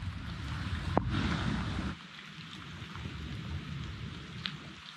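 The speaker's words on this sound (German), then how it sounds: "Man sitzt zwar im Regen" Rain falls steadily in the Panamanian jungle, a continuous soft hiss with heavier patter in the first two seconds, then lighter, with a couple of sharp knocks nearby.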